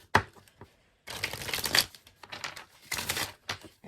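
A small deck of tarot cards is handled and shuffled close up, giving quick papery riffles and slaps in two longer bursts separated by short taps and pauses, with no voices.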